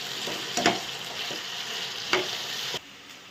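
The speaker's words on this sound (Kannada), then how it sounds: "ಒಂದೇ ಮಿಕ್ಸ್ ಮಾಡೋದು ಥರ ಕೆಂಪು ಆಗೋವರೆಗೂ ಹುರ್ಕೋಬೇಕು ರೀ" Potatoes for an egg potato fry sizzle steadily in a pan, loud and close, while a spoon stirs them in two scraping bursts before the sound cuts off.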